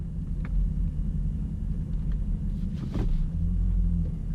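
A Mercedes-Benz SL55 AMG's engine rumbles low and steady at a drag strip as the car rolls up to stage, a deep continuous idle with slight swells in loudness.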